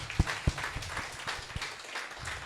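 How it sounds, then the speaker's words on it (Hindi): An audience at a Hindi-language Christian gathering gives soft, thin applause: a few sharp near claps over a faint, scattered patter of hands, fairly quiet overall. "तालियां।"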